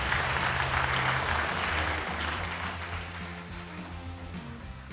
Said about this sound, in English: would love a quick round of applause for this excellent panel and their announcements today